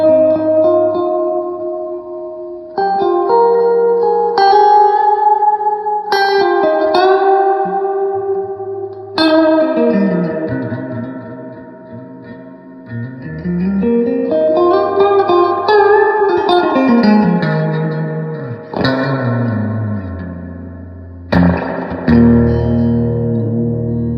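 An electric guitar plays through a '68 Custom Deluxe Reverb amp with its reverb on, picking single notes and sliding phrases whose tails wash out in spring-like echo and swell with harder attack, clean and alone for the whole passage.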